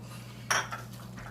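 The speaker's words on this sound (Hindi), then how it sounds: "अच्छे से मिक्स करेंगे।" A utensil scrapes and clanks once against a pan while green chillies and coriander are mixed into cooked ridge gourd sabzi, a single short metallic stir over quiet background hum.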